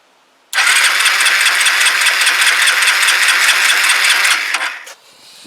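A Kawasaki BN125 Eliminator motorcycle engine fires up and runs loud and close with a steady, raspy idle for several seconds, then cuts off abruptly.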